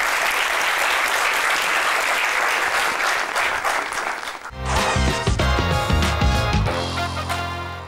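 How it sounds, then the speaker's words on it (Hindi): Studio audience applause fills the first half on a television talk show, loud and sustained, then gives way to music. "तालियां,"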